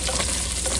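Shallots, red chillies and curry leaves sizzle in hot oil while being stirred, a brief, steady close-up hiss with no voices.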